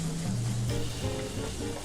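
Pork stir-frying over high heat in a pan, a loud, continuous sizzle and crackle close up, with no voices.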